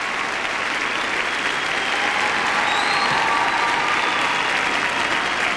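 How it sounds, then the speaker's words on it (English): A large arena crowd gives a figure skater a standing ovation at a championship free skate, steady dense applause and cheering that holds at full volume throughout without a break. "Standing ovation for Takeshi Honda."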